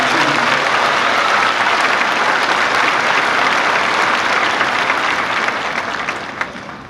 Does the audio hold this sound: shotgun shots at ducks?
no